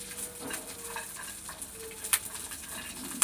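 Peanuts and cashews frying with curry leaves in a pan, a quiet steady sizzle broken by soft stirring scrapes and two sharp clinks of a spoon against the pan.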